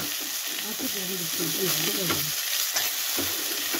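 Green peas are sautéed with spices in a pan for a cauliflower and pea curry: a loud, continuous sizzle with spatula scraping, and a brief voice-like tone rising over it early on.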